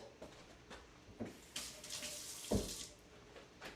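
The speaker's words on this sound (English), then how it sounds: "Wash my hands." Tap water runs into a sink while hands are washed, a steady close splashing hiss with brief louder surges as the hands move under the stream.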